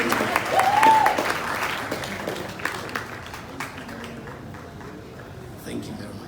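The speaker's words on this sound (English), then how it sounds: "let's give them a round of applause" An audience at an awards night in a beach hotel in Accra claps, loud at first then tapering to scattered applause, with voices talking over it.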